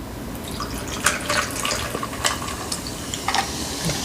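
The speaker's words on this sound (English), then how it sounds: "Let me pour my soda" Coke is poured into a glass up close, a quiet fizzing crackle with scattered drips and small splashes, heard alone.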